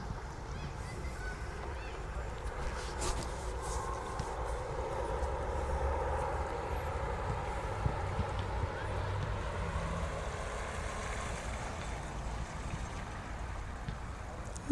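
A small carp-fishing bait boat motors back toward shore, giving a faint, steady hum over open-air water ambience, with a few brief knocks and no clear voices.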